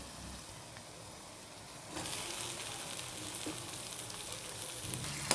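Chilli and tomato frying in a pan, a soft steady sizzle that swells louder partway through as the tomato goes in, continuous hiss with no talking.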